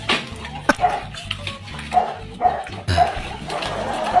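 A dog gives a string of short, close yips and barks in a rhythmic series, with people talking around it.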